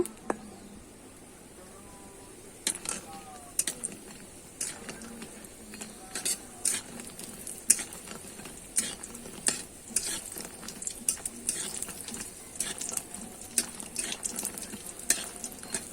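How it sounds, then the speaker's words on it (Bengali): Lentil dumplings (bori) frying in hot oil in a home kitchen, a steady crackling sizzle with sharp spatters and pops throughout, fairly close, with occasional soft stirring clatter and no talk. "তেলটা আমার গরম হয়ে গেছে বড়িগুলো আমি ভেজে নেব"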